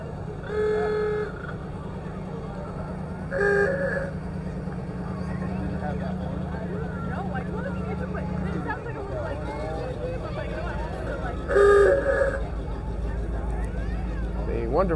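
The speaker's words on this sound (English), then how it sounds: "Wonderful sound of what's been known as an ooga horn since they first came out" An ooga horn on a vintage car at a Veterans Day parade blares three times, each short honk spaced several seconds apart, over a continuous engine rumble and the chatter of bystanders.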